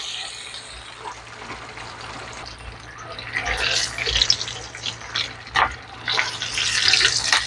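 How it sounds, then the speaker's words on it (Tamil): Chicken legs frying in oil give a steady, close hiss that swells into busier crackling and sputtering partway through, with no talk. "நல்லா பொரிச்சு எடுத்துக்கிறோம்."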